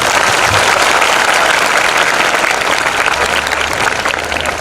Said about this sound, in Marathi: साहेबांचं आपण सगळेजण टाळ्या वाजवून स्वागत करूया